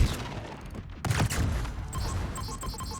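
Warship guns fire a full salvo in World of Warships: a heavy, booming blast with a rumbling tail, followed by rapid repeating game beeps.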